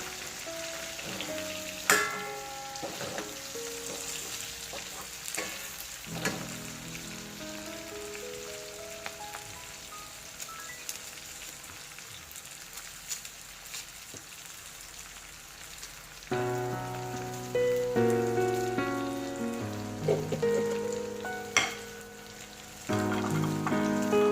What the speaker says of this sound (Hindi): ये हमने लगातार 5 मिनट फ्राई किया है चिकन को।